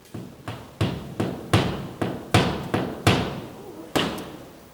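A series of about ten loud, sharp metallic strikes at a steady, slightly uneven pace, each ringing briefly before the next, like hammers hitting.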